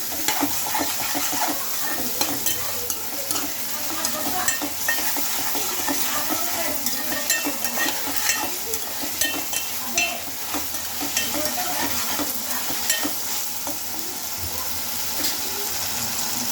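Ginger garlic paste frying in a pan for a homemade chicken curry, giving a dense continuous sizzle and crackle with scraping stir sounds throughout, close and steady, with a faint hint of voice in the background.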